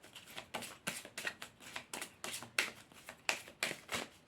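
A deck of Zen wisdom cards is shuffled by hand, about a dozen crisp riffling bursts in a quick, even rhythm, close and quiet with no talking.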